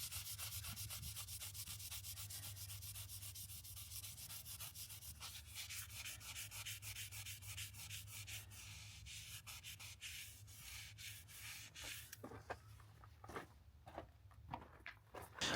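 Fiberglass repair on a Casita camper being sanded smooth, a steady close scraping rub that grows choppier and more broken toward the end.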